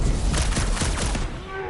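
Dense gunfire and blasts in the video game Marvel's Guardians of the Galaxy on a rooftop against snipers, a continuous loud rattle of shots with rumbling booms, easing toward the end.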